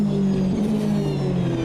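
A steady, loud racing car engine drone in the Automobilista 2 racing game, with a sustained pitch that dips and rises slightly as the car runs continuously.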